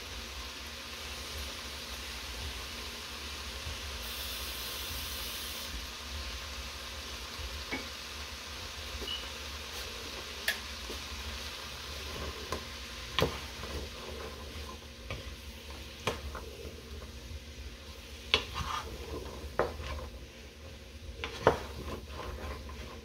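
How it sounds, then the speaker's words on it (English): Vegetables, including leeks, for a cream stew sizzle steadily in a pot while being stirred continuously, with sporadic sharp clinks and scrapes of the utensil against the pan. "make sure you are constantly stirring, because vegetables will burn if you just leave."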